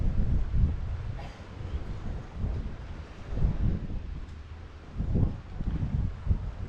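Gusty wind sweeps across a rugged, wave-battered coast at Cala Ratjada, Mallorca, rising and falling in loud rumbling buffets against the microphone, with no voices.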